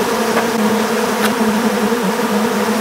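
Africanized honey bees hum in a dense, continuous drone at the hive, a close and steady buzz with a few brief louder passes.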